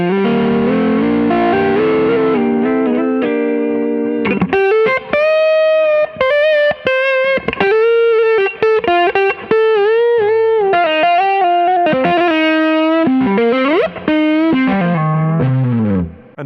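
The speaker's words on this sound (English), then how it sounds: "the second gain stage will be like a little bit more of an overdrive. It's a Nordland ODRC" Electric guitar driven through a Nordland ODRC overdrive pedal as a second gain stage, heard alone, loud and close: sustained chords, then distorted single-note phrases and bends with a warm, saturated tone.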